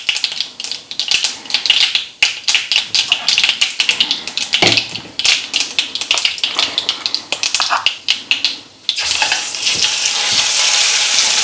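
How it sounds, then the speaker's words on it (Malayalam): Ground tindora chutney poured into hot oil with mustard seeds sizzles and crackles loudly and continuously, with dense popping and spattering that settles into a steady hiss near the end. "നമ്മളിവിടെ അരച്ച് വെച്ചേക്കുന്ന ചട്നി ഇതിൻ്റെ അകത്തേക്ക് ഇട്ട് കൊടുക്കുകയാണ്"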